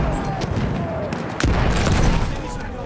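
A machine gun fires in a Battlefield 1 match, rapid bursts with one sharp louder crack midway, over dense battlefield noise and faint in-game voices.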